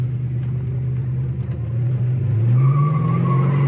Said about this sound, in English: She even squeals the tires a little bit.